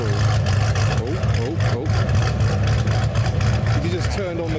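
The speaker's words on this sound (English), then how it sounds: "Very naughty sounding VXR8." Deep V8 rumble from a Vauxhall VXR8 idling and blipping its throttle at a UK show for lowered cars, a loud, steady burble with short rises in revs.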